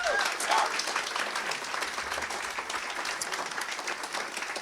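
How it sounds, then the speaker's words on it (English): Lecture audience applauding in a hall, a steady crowd of clapping hands heard from a distance, continuous and even throughout. "Round of applause for John Malcolm."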